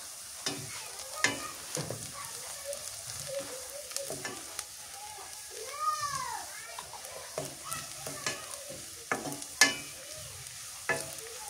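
Onions with whole cumin seeds frying in oil, a soft continuous sizzle under frequent sharp clinks and scrapes of stirring, with faint chirping in the background.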